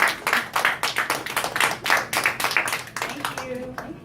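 An audience applauding after a speech, a close burst of fast, crisp hand claps that carries on steadily for a few seconds before thinning out, with a few voices mixed in.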